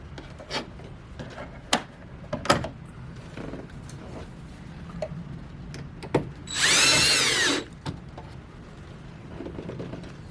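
A power drill drives 2 1/2-inch self-tapping screws into a car body, a dense whining burst of about a second standing out against quiet background shuffling and a few sharp knocks.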